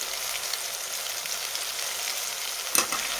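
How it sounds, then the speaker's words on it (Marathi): Red chili powder frying in oil for a drumstick curry, a steady broad sizzle throughout with one brief sharper crackle near the end and no talking. "आता आपण तेलामध्ये छान परतून घेऊया"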